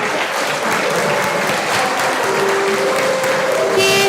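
Loud, dense applause from a crowd at a school prize giving for primary pupils, a steady wash of clapping holding for the full stretch with faint voices underneath.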